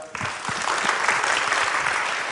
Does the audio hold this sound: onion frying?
no